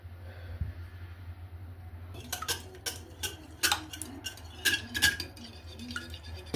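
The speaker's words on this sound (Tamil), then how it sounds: "நல்லா நுரை வர்ற மாதிரி அடிக்கணும் முட்டை" Eggs beaten with a fork in a bowl for pudding, a quick irregular run of light clinking taps against the bowl that starts after a quiet pause over a low steady hum.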